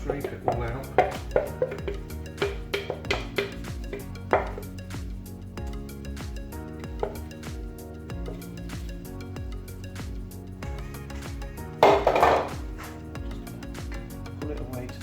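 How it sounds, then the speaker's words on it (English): Caramel batter is scraped from a bowl onto apples, with repeated clinks and knocks of a utensil against the bowl, close and intermittent, plus a brief louder scrape near the end. "There's lots in the bowl, so make sure you scrape it all out"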